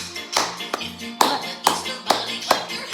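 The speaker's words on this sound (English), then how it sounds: "If you love the Easter bunny, clap your hands." Hand claps land in an even rhythm, about two per second, alongside a singing voice during a clap-your-hands Easter bunny song in a lesson for a four-year-old. Each clap is close and crisp.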